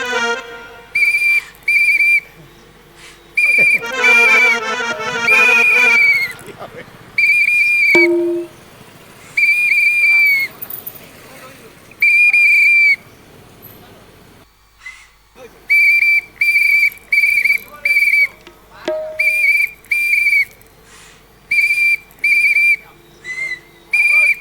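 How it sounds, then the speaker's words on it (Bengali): A whistle blown as a lookout's signal, sounding in repeated short shrill blasts, some in quick bursts of two or three, loud and close, alternating with gaps of quieter background noise and brief voices. "তুই সিটি মারলি"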